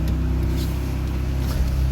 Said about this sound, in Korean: 우리가 잠금 곱하기 2를 눌러서 자, 시동을 걸었습니다.